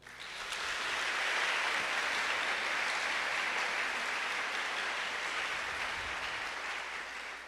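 A church congregation breaks into broad, sustained applause that swells within a second and holds evenly, slightly distant, with no voices standing out.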